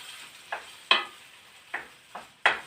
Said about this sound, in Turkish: patlıcanlarımızı da birlikte kavuracağım